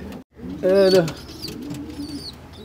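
Pigeons in an aviary loft coo nearby, one clear rolling coo with a few softer calls and chirps around it, while someone talks quietly over the birds.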